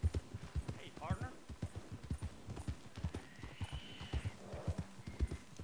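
A horse's hooves clip-clop in a steady rhythm in Red Dead Redemption 2, with a brief neigh near the start, under someone talking.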